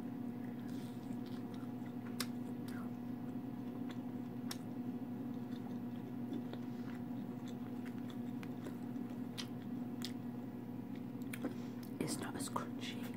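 Crunchy prawn toast is chewed close to the mic in quiet, intimate bites, with scattered soft crunches and clicks over a steady low hum, whispered talk drifting through.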